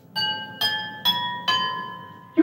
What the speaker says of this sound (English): this sound and the different notes you can get from a glass of water